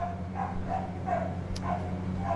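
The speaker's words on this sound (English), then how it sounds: "During this time, the neighbors' dogs are very alive and enthusiastic." Neighbours' dogs bark in the background, several spaced yelps and barks in a loose rhythm over a steady low electrical hum, fairly faint and distant.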